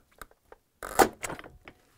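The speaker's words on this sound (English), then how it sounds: "To separate the doors, we need to hold the inner door and pull on the outer door." Inner and outer doors of a GE appliance are pulled apart: a few light plastic clicks, then a louder scraping clatter and rattle of panels separating, close up with no voices.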